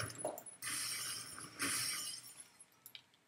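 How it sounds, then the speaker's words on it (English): Glass smashing in the shooter game Phantoms, two loud bright shattering crashes close together, each followed by a spray of tinkling shards that fades into scattered clinks. "Are you smashing glass over?"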